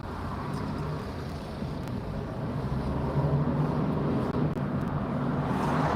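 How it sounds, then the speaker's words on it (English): Engine of a car driving just ahead in traffic, its exhaust smoking, a steady low rumble heard from behind on a UK road, continuous and fairly loud against road noise. "Nice sounding engine."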